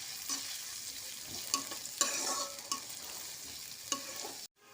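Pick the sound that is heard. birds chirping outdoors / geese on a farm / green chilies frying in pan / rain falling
green chilies frying in pan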